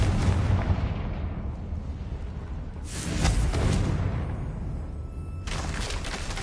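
Confringo spell blasts in a video game: a heavy, rumbling explosion opens, fades, then a second sharp burst erupts a few seconds later over steady game noise.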